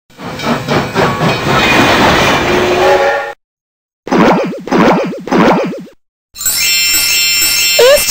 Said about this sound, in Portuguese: Aí vem o trem.